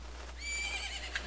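Epona the horse neighing in The Legend of Zelda: Majora's Mask, a single short high whinny, moderately clear over a low steady hum.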